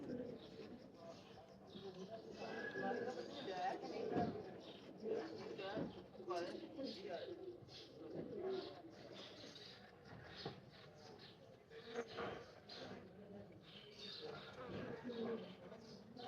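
Pet pigeons cooing in a loft, low soft calls repeating through the stretch under steady background noise, with someone talking over them at times.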